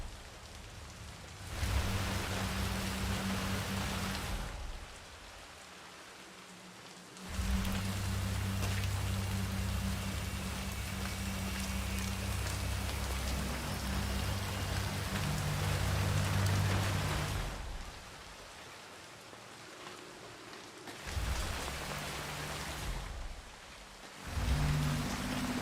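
Steady rain pours in broad hissing bursts in the video game Hitman III, stopping and starting several times with brief quiet gaps between long stretches of downpour.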